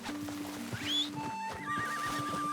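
A rare horse in the Red Dead western video game whinnies loudly and snorts over steady clip-clop hoofbeats, with sustained tonal game music running underneath throughout.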